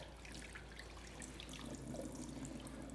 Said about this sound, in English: We're going to dump a little bit of the water, try to keep the salt in the tub.